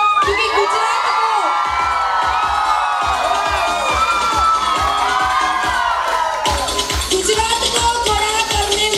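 Audience at a business event in Gujarat cheering, whooping and shouting loudly and continuously, a dense crowd roar with excited high voices throughout.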